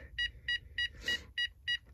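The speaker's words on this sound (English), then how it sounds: "and you get your beeps and beeps and more beeps" A Texecom Veritas alarm panel gives a run of short, evenly spaced electronic beeps while arming, about four per second's pace of two, with a brief noisy burst between them, alone against faint background hum.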